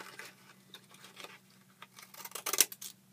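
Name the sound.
scissors cutting paper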